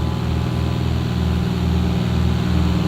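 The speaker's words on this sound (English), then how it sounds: "You hear the engine noise? Listen to the engine noise." A Cirrus light aircraft flies in slow flight at about 3,500 feet, its piston engine making a loud, steady low drone that stays even and unbroken with a faint rhythmic pulsing.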